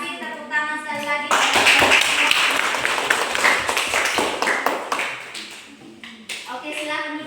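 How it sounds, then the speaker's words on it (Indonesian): A classroom of students clapping together, a loud dense burst of applause that swells and then trails off into scattered claps, with voices before and after. "Tepuk tangan sekali lagi."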